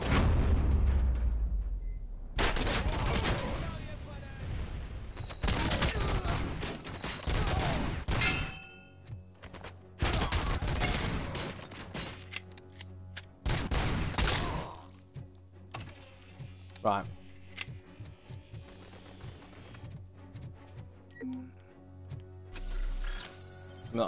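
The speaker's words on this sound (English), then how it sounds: "shooting at me from somewhere, I'm not sure where yet" Gunfire rattles through a combat firefight in the video game RoboCop: Rogue City, with dense bursts and scattered shots layered over game sound effects and music.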